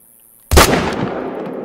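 A single loud rifle shot from a hunting game cracks sharply after a short silence, then rolls off in a long, fading echo.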